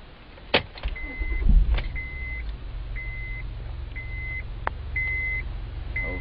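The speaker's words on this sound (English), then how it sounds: "Starting the car up." A 7th generation Honda Accord starts up: a few clunks, then a low engine rumble settling into a steady idle, with a repeating electronic beep chiming at regular intervals over it inside the cabin.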